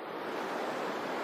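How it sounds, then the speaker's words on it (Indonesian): A waterfall gives a steady, dense rush of falling water that fills the short moment evenly, loud and continuous with no other sounds. "sekarang sudah sampai di air terjun"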